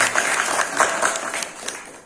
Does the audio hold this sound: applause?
yes